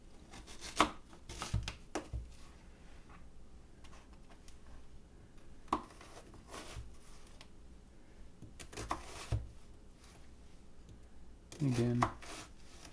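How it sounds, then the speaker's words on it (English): Knife chopping ingredients for a pork stew on a cutting board, a few sparse, uneven thuds and taps spaced apart, with a louder cluster of strikes near the end, close and fairly quiet. "Now let's chop this up and put this in this bowl right here."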